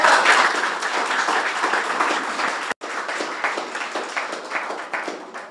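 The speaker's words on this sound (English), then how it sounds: "Let's give it a round of applause." Crowd applause at an outdoor ribbon cutting ceremony for the Village at McArdle in Corpus Christi, a steady dense clapping that runs the full length with one brief break midway.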